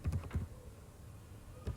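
Brief burst of a few soft, close computer keyboard keystrokes while typing a Word document, followed by a quiet pause and one more tap at the end.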